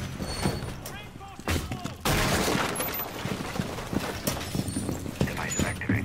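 Scattered gunshots and bursts crack through a Rainbow Six Siege round, a loud sustained stretch in the middle among irregular single shots, with people talking over the action.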